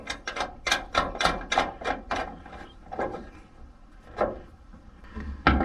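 A ratchet snugs a bolt through an LED pod light mounting bracket under a truck hood, giving a quick run of sharp, close clicks followed by a few slower, spaced clicks.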